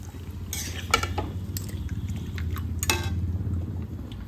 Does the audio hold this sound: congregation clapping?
no